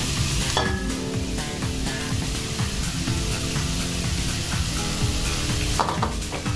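Pork fries in a pan without oil, giving a loud, continuous sizzle with scattered crackles and the scrape of stirring throughout.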